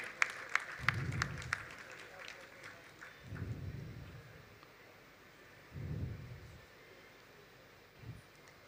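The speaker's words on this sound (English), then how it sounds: "Can we have a round of applause, ladies and gentlemen?" Audience applause at a business conference, sounding in three or four separate rumbling bursts of clapping with quieter gaps between them, no voices over it.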